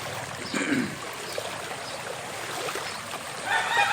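Floodwater rushes and gurgles steadily over a road, a continuous moderate flow with small splashes, no one speaking.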